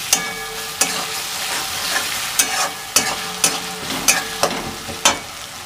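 A spoon scrapes steadily around a pan of vegetables frying for a devotional bhog offering, rhythmic close clanks over a constant loud sizzle.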